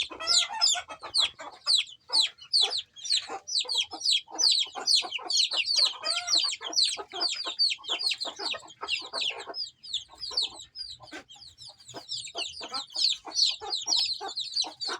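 A small flock of hens clucks steadily, with rapid, overlapping calls close by and occasional louder squawks.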